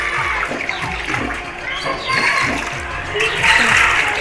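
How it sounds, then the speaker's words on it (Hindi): Water poured and splashed over fish in a bowl to wash them during cooking at home, a continuous close sloshing and pouring with no talk over it. "दीदी पानी ला डाल डाल के धोते संगवारी हो"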